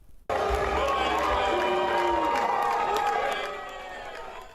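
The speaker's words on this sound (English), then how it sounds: "round of boos drowning out a smattering of applause when Governor Kemp took the stage" Loud, sustained crowd noise erupts at the Georgia Republican convention on Jekyll Island as Governor Kemp takes the stage, booing drowning out scattered applause, a dense roar that eases slightly near the end.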